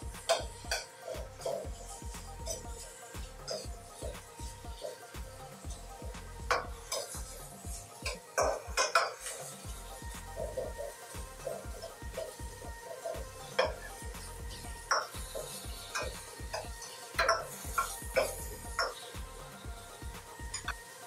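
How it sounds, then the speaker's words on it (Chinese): Onion, dried chili and bacon stir-frying in a little oil in a pan, with a steady sizzle and rhythmic spatula scrapes and clinks against the metal throughout, close and continuous. "锅中放一点油，放入洋葱、干辣椒、培根，这三种配料一定要炒香之后再放其他的"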